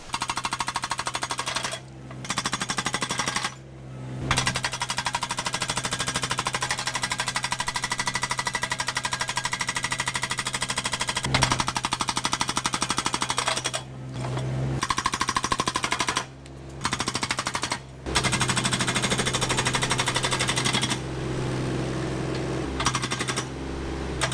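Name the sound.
hydraulic hammer breaking concrete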